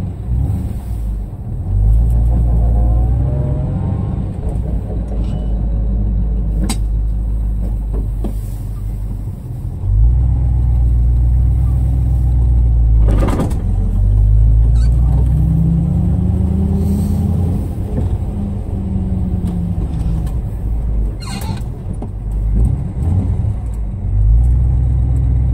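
A 1978 Chevrolet K5 Blazer drives shortly after a cold start, its engine rumbling steadily with several rises as it accelerates and shifts, loud and close from inside the cab.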